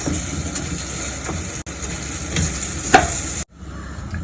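Liver and rice fry in a pan with a steady, close sizzle and occasional stirring scrapes, briefly cut off twice, then continuing a little quieter.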